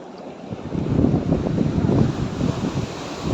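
Sea water surges and washes around rocks on a beach at Kihim near Alibag, a steady rushing swell rising and falling with broad wind-blown noise close to the microphone, no voices.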